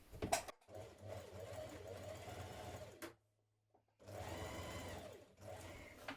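A sewing machine stitches a seam on a vintage-style spring dress, whirring in close, quiet bursts, with one short stop partway through before the stitching resumes.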